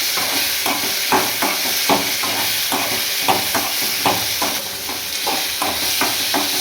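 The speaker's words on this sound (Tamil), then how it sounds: "தக்காளி 2 தக்காளி போட்டு வதக்கிடலாம்." Tomatoes sautéing in a pan for moong dal sambar give a loud, constant hiss of frying, broken by regular rhythmic strokes of a spatula stirring through them.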